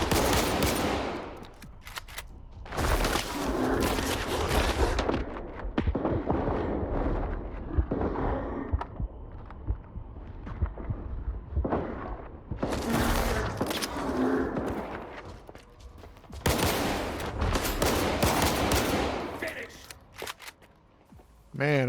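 Shotgun blasts in the video game Stalker 2, heavy bursts of gunfire that come in several separate clusters, loud and close, with quieter gaps between them where someone talks.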